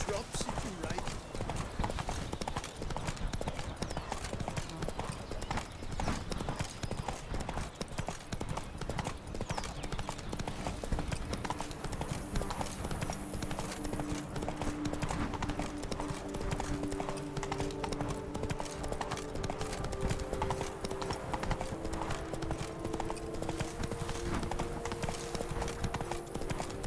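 A horse gallops in The Witcher 3, its hooves drumming in a fast, continuous rhythm for nearly half a minute, with other game sound layered underneath.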